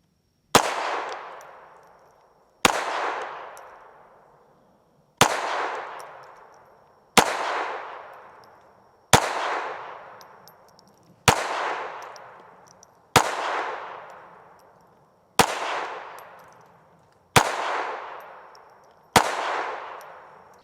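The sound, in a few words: Retay RXP 22 pistol firing Remington 22 Golden rounds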